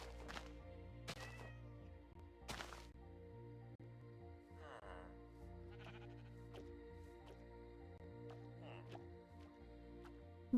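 A Minecraft cat meows in a few short, sharp calls spaced over several seconds, with softer game noises in between and a quiet background hum.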